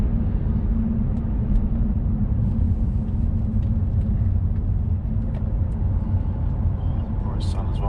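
A car cruising along Welsh country roads on a bright day gives a steady low engine and road rumble that stays even throughout, with faint occasional clicks above it.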